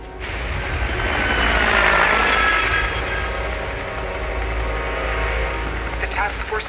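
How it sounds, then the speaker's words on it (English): A helicopter in an action film runs with a loud, steady rumble and engine whine that swells slightly and holds for several seconds, with a faint rhythmic clatter near the end. "Fire up the chopper."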